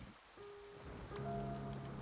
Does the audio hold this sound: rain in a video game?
yes